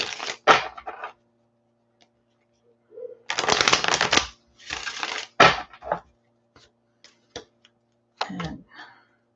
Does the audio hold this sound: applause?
no